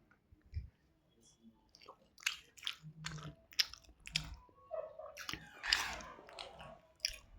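Someone chewing homemade chicken biryani close up, with irregular soft crunches, bites and wet squishy mouth sounds spread across several seconds, fairly quiet.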